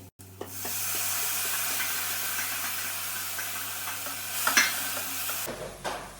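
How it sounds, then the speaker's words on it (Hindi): Tomatoes and green chillies go into onions already fried golden brown in a pan for desi fried rice, giving a steady, loud sizzle with stirring scrapes that cuts off abruptly near the end. "अब हम इसमें डालेंगे टमाटर एंड हरी मिर्च।"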